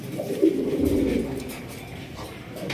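An exhibition pigeon coos in a low, throaty rolling call close up, followed by quieter background bird sounds at a pigeon sale.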